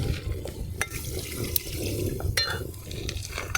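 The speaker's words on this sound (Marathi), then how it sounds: "आता आपल्याला शिजायला पाणी टाकायचं आहे" Water is poured into a cooking pot of crab curry being made, giving a continuous splashing gush with a few sharp clinks of metal cookware, close and fairly loud, with no talk.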